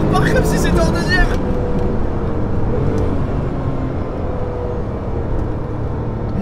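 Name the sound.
Porsche 997 GT2 engine accelerating hard in third gear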